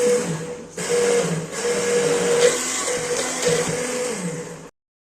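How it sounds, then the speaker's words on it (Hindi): An electric hand blender whirs steadily and loudly up close, with a brief dip near the start, then cuts off abruptly at the end. "यहाँ पे हैंड ब्लेंडर की मदद से, इलेक्ट्रिक ब्लेंडर की मदद से हमने इसे ब्लेंड कर लेना है।"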